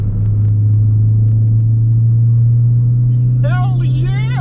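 A Ford Focus ST with a Karter Performance cat-back exhaust and the resonator deleted cruises in fifth gear at 3,500 RPM, giving a loud, steady, low droning rumble, with a short voice near the end.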